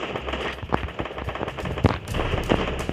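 Gunfire in the Free Fire battle-royale video game, several sharp shot impacts hitting the player, scattered in quick bursts over a busy game background, without talk.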